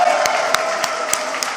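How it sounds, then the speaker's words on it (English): Crowd applause at a keynote rally for Vietnamese-Americans and America First, with some cheering, sustained throughout with periodic louder sharp claps. "I want to see you stand up, wave your hands, and applaud him."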